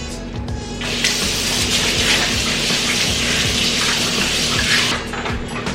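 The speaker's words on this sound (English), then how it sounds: "Let me wash my hands." Tap water runs steadily into a kitchen sink as hands are washed under the stream, a loud continuous splashing hiss that starts about a second in and stops near the end.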